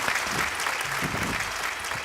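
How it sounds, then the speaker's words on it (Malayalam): A comedy stage show's studio audience bursts into dense, continuous applause, a loud steady wash of many hands clapping with faint crowd noise mixed in. "ക്ലാപ്പ്. Come on."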